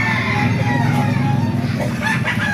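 A rooster crows loudly nearby over a steady low rumble of background noise, with clucking around it.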